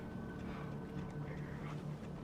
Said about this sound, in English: The low rumble of your motors, comforting, almost like a heartbeat in the dark. The waves slap against the boat, steady and reassuring